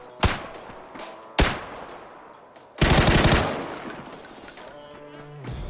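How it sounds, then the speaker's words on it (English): Gunfire aimed at the player in PUBG: two sharp, loud single shots, then a dense burst of rapid automatic fire, trailing into fainter scattered pops and game ambience. "now we're getting shot at"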